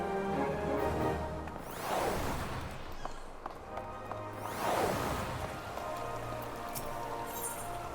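Steady rain falling while fishing in Final Fantasy XIV, a continuous patter with two soft swooshes of casting or line movement rising over it and low game music underneath.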